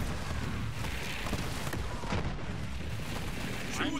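Gunfire in the video game Borderlands 3 during co-op play, a dense continuous barrage of rapid shots and bursts that stays loud and busy throughout.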